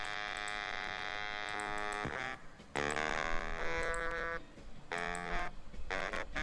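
A horn section heard on its own as the center horns pulled from a song's mix: loud, bright sustained brass chords with short breaks, playing continuously.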